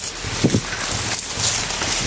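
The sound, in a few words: heavy rain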